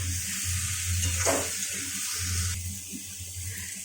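Water poured into a pan of fish curry with fried radish and potato after the spices have been cooked down, a steady splashing pour with a faint sizzle beneath, alone.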